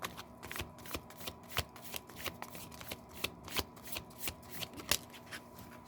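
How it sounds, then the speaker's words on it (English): Tarot cards shuffled in a steady run of crisp riffling flicks and soft slaps, close and fairly quiet, with no talking over them. "Sun card. Let's see."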